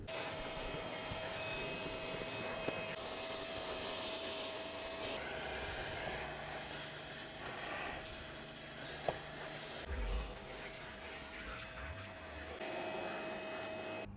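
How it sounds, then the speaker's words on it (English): A shop vac fitted with a small brush attachment works a car carpet, giving a continuous loud motor whine and airflow rush with a steady tone, shifting slightly as the brush moves and bumps. "let's see what the little brush attachment can do to agitate that and clean it up."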